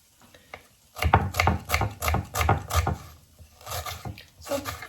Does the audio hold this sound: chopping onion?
yes